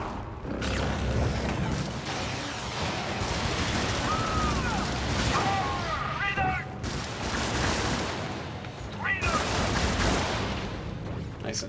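Gunfire in a military shooter video game: dense, loud bursts of rapid shots and booming impacts roll on almost without pause, with brief mechanical clicks and a voice speaking partly over the barrage.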